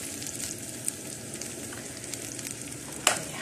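Rice frying in a pot gives a soft, steady sizzle, with a few light utensil clicks and one sharper knock near the end.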